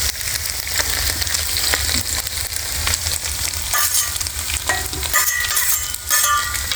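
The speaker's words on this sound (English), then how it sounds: "The cabbage over on the high side, high temperature side, just to get it a little more crispy." Cabbage and noodles sizzle and fry on a hot flat-top griddle, a steady loud crackling hiss with intermittent scraping and stirring of a spatula across the metal.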